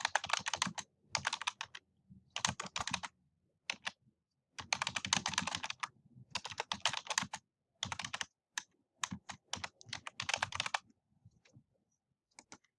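Fingers type on a computer keyboard while a paper is written, with rapid clusters of close, crisp key clicks separated by short silent pauses, no talking.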